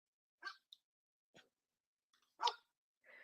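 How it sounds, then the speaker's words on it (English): A dog indoors barks in a few short, separate bursts, some sharper and louder than others, with quiet pauses between them and no talking. "She doesn't even usually bark, so it's funny that this happened."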